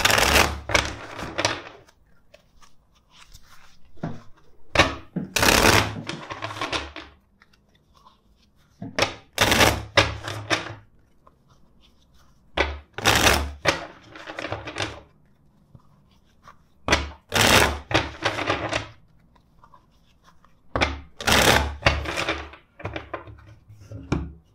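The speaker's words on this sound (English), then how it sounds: "let's shuffle the deck four times for you" A tarot card deck is shuffled in bursts, about eight separate riffling, crisp card flutters close to the mic with short quiet pauses between, no talk.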